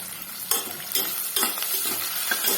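Small onions and garlic sauté in a pan with a constant close sizzle, punctuated by regular stirring scrapes roughly every half second, and no speech.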